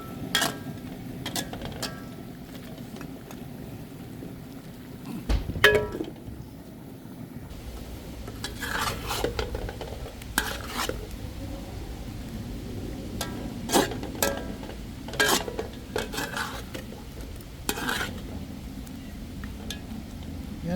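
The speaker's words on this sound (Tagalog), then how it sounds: "Tapos haluin natin." Chicken adobo with oyster sauce being stirred in a pan, a series of close, sharp utensil scrapes and clinks against the metal at irregular intervals over a low, steady background hum.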